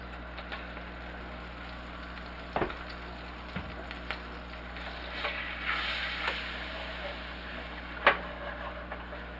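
Flour cooking in a little oil in a pan, a steady low sizzle and hiss throughout with a few sharp clinks of a utensil against the pan, no talking.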